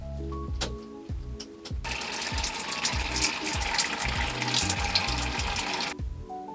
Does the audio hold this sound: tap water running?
yes